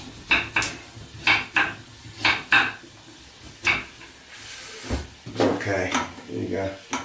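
A blunt knife cutting pumpkin into small cubes, giving repeated sharp chopping knocks on a board at an uneven pace, close by, with brief talking between the cuts.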